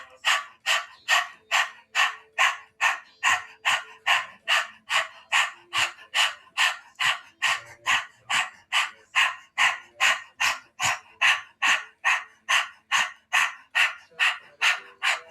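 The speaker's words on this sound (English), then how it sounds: "dog breath of fire." Rapid, rhythmic panting breaths of a yoga breath-of-fire exercise, in a steady series of about thirty sharp, loud exhalations that sound dog-like. No talk over them.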